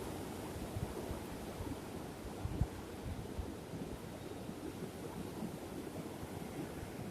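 Strong wind gusts outdoors, a steady broadband roar with rumbling low buffeting that sounds like it is hitting the microphone, continuous and fairly loud throughout with a brief stronger gust in the middle.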